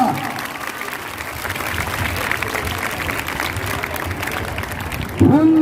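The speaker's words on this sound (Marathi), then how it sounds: "त्यांच्याबद्दल जोरदार टाळ्या हो द्या" Steady applause from an audience at a women's and girls' self-defence training event, sustained clapping for the trainers, fairly close and dense, with a brief voice near the end.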